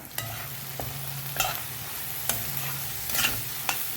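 Masala with garam masala being sautéed in a pan, a steady low sizzle with repeated scraping strokes of a spoon against the pan, close and moderately loud, no talking.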